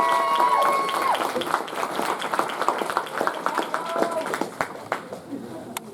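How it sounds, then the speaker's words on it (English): Audience applause and cheering at the closing ceremony of the Minamicon 2024 anime convention, a dense wash of clapping from a large indoor crowd that thins out toward the end, with voices mixed in. "Big round of applause for the Tokonatsu team."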